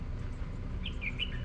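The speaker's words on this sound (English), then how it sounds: "Ba bông con chích chòe nghe tiếng đã không?" An oriental magpie-robin sings outdoors in the United States, a few short, bright chirps arriving late over quiet background noise.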